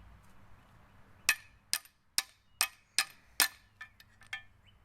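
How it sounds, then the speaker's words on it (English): A socket is tapped to drive a part into the A-arm of a 2021 Polaris RZR Pro, giving about eight sharp, close metallic clinks at a fairly even pace over a few seconds. "put a socket over it and then tap the socket"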